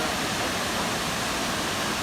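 A waterfall on the Laurel River along the Appalachian Trail in winter gives off a steady, full roar of rushing water, close and continuous, with no voices over it.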